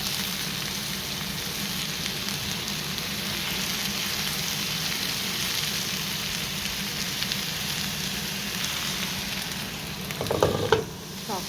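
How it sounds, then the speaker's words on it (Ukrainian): Mushrooms and rinsed sauerkraut frying in a pan, a loud, steady close sizzle throughout, with a few clattering stirs and knocks near the end. "Грибочки підсмажують, кидаю промиту квашену капусту."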